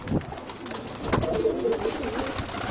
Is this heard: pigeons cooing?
yes